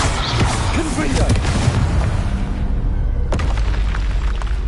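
A Confringo fire-blast spell in the Hogwarts Legacy game bursts as a loud, close boom with a crackling tail, another sharp blast following a few seconds later.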